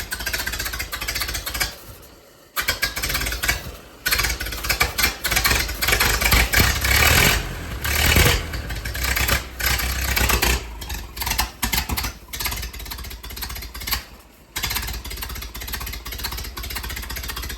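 A 1929 Model A Tudor sedan hot rod running through a cheap side exhaust muffler, a loud, continuous rough engine roar with choppy pulsing and a few short dips and rev changes throughout.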